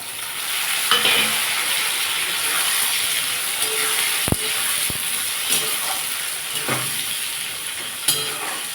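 Pointed gourd fries in a pan with chopped tomato and onion, giving a steady, close sizzle and hiss. A few sharp utensil knocks and stirring scrapes stand out, and no one speaks.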